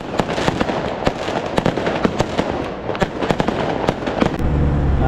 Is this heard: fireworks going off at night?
yes